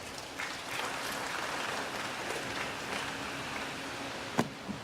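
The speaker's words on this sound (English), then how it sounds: "Let's give him a round of applause." Round of applause from the audience at a university inaugural lecture, steady broadband clapping sustained throughout at moderate distance, with a sharp louder clap near the end.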